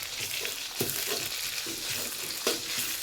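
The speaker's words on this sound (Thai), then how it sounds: "แล้วก็ แกงลงไปผัดจนหอมนะครับ" Curry paste stir-frying in hot oil in a pan for spicy wild boar stir-fry, a steady close sizzle with soft scraping stirs and a few sharper pops, no talk.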